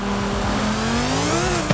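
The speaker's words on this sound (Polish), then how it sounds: "to ten wydech mocniej zagłusza to wszystko" A Lamborghini Huracán STO in Forza Horizon sends out a steady, loud exhaust roar with a rising engine tone from a chase view. It is heard alone.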